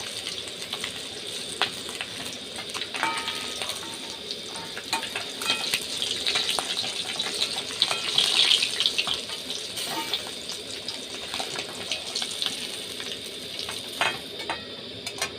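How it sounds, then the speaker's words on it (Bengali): Pieces of rohu fish shallow-frying in hot oil in a pan, a steady dense sizzle and crackle lasting throughout, with occasional clinks and scrapes of a utensil turning the fish, no talking. "এইভাবে লাল লাল করে মাছগুলোকে ভেজে নিতে হবে"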